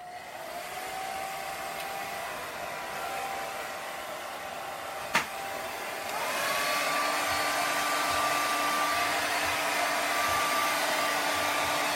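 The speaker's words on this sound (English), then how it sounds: "I have a hairdryer out, so sorry about the noise." A hairdryer blows steadily and loudly the whole time in an art studio, with one sharp click partway through and the airflow growing slightly stronger and higher afterward.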